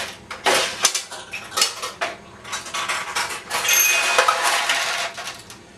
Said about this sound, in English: So a ball went in this tulip, paid out balls, and the lights flashed.